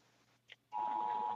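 A phone gives a short notification sound: a brief faint chirp, then a steady, fairly loud electronic tone that starts abruptly and holds to the end.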